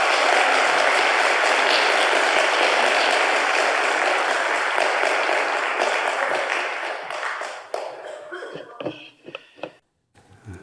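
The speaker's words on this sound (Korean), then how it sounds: "우리 박수로 환영합시다." Sustained applause from a church audience welcoming a speaker at an education lecture, a dense roar of clapping that holds steady for several seconds before thinning into a few last scattered claps.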